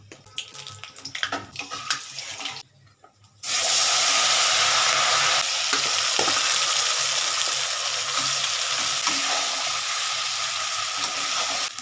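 Nigella seeds and a torn dried chilli hit hot oil for a fish curry: first scattered clicks and crackles, a brief quiet gap, then a loud, sustained sizzle that rushes on steadily to the end, with no talking.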